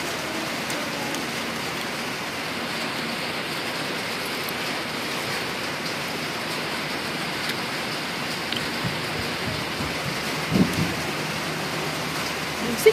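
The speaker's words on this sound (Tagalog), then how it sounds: "Ulan man!" Steady rain falls in a flood-hit area, a dense even hiss of drops on surfaces that holds throughout, with a brief louder spatter near the end.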